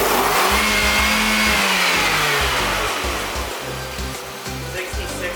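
A car engine running with nacho cheese in place of oil, held at high revs and bouncing repeatedly off the rev limiter in a loud, close, stuttering pulse.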